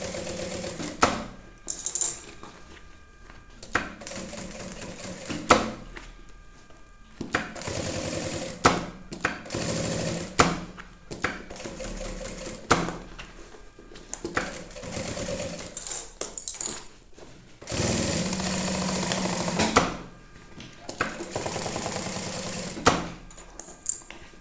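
Sewing machine stitching a maternity bag with a mesh pocket, running in repeated bursts of close, busy mechanical whirring separated by short pauses and handling clatter.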